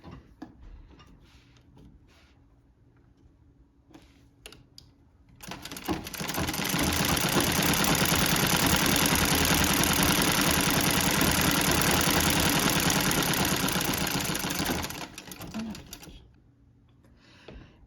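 A Singer Model 15-30 sewing machine with an automatic zigzag attachment runs steadily for about nine seconds, its fast, even needle chatter loud and close, with quiet handling noises before and after the run.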